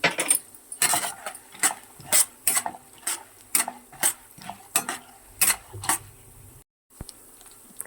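Cashews frying in a pan for tamarind pulihora, with a soft sizzle under a steady rhythm of spoon or spatula scrapes and clinks against the pan, fairly close and quiet, ending in a short pause.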